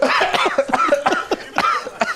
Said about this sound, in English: Is that your COVID cough?